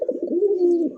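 A red, pitcher-necked domestic fancy pigeon coos close by in one drawn-out, throaty, rolling call lasting about a second, with no talk over it.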